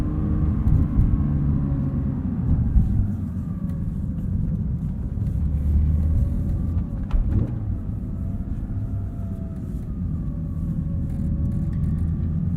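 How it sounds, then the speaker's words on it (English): A Porsche 911 GT3 with a manual gearbox cruises with its exhaust in a quieter, toned-down mode, giving a steady low rumble that carries through the whole stretch with a brief swell midway and no talking. "the exhaust gets a little bit quieter in this mode too"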